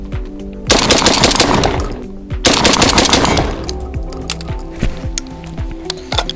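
A Derya Arms firearm fires two rapid bursts of loud, sharp, closely spaced shots, each burst lasting about a second and a half, followed by a few scattered single reports and clicks outdoors.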